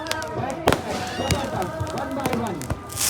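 Fireworks at the Dewa mela burst and crack in sharp reports scattered across the stretch, some loud and close, over a continuous crowd murmur and someone talking.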